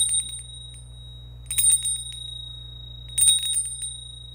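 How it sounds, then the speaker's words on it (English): A small bell rings twice, with two bright, shimmering bursts about a second and a half apart over a steady low hum and a faint high tone. "Okay, we're gonna ring the bell."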